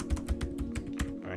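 Quick bursts of keystrokes on a computer keyboard, close and fairly clear, tapping in an uneven rhythm over a steady low electrical hum.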